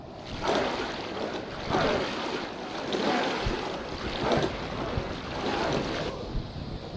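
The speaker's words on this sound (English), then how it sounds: "The waves are calm, the Vask is making slow progress." Calm sea waves wash against a Viking longship under sail in Expeditions: Viking, broad rolling swells rising and falling every second or so with wind rushing over them, steady and fairly quiet, no voices.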